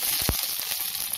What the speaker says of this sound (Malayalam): കടുക് കൂട്ടി കറിവേപ്പില ഇടാം.